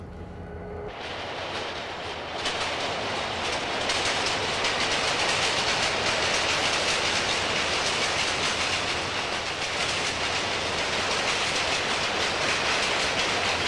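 A freight train with boxcars rolls past close by, a steady loud rumble with rattling wheels and a hiss that fills the whole stretch.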